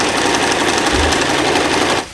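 A sewing machine stitches bridal satin skirt fabric to its lining in a loud, fast, continuous mechanical chatter that stops abruptly near the end.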